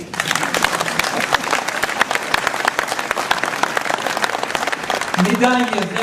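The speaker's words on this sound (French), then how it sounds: "Et on peut l'applaudir." A crowd applauds at the mayor of Ouistreham's New Year greetings ceremony during a medal presentation. Dense, sustained clapping fills the room, and a voice begins speaking near the end.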